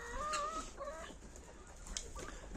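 Chickens on a farm cluck softly in short, scattered calls, fairly close but quiet, with a low background hum and no talking.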